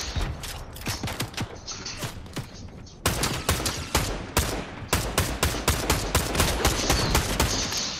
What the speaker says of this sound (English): I got a few shots on him